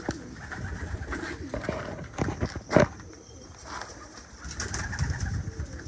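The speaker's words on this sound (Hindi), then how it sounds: "वाकई में बहुत अच्छी कबूतर है" Pigeons cooing close by, soft throaty coos repeating across the moment amid background noise, with a brief louder burst midway and people talking faintly.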